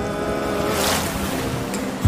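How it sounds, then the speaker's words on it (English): Steady bubbling and churning water fills the whole stretch at a constant level, a dense watery wash with a brief thump at the very end and no talk. "Are the bubbles too loud?"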